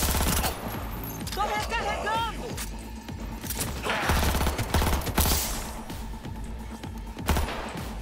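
Bursts of automatic gunfire and heavy impacts crackle through a firefight in Cyberpunk 2077, loud and close, with rapid volleys, crashes and shouted speech in between.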